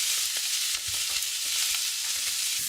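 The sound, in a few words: bacon frying in a pan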